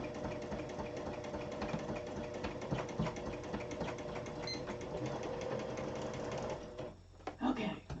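A sewing machine runs steadily, stitching the seam of a flip pocket in a continuous mechanical whir that stops near the end. A voice speaks over it.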